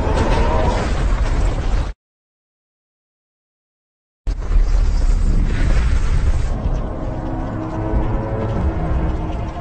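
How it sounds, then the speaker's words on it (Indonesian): A large cannon blast booms loudly in a duel-of-legends battle, a rough broadband roar that cuts off abruptly into silence, then erupts again into a sustained rumbling crash with scattered debris noise. "Ledakan meriam besar telah menghantam di duel legend ini."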